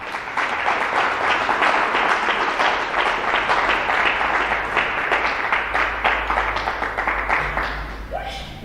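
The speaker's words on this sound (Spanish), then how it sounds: "Dale un fuerte aplauso al Señor." A church congregation gives steady, enthusiastic applause for several seconds, a dense wash of many hands clapping that tapers off at the end.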